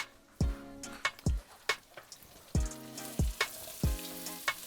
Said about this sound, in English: Now we want to saute these for about 5 to 7 minutes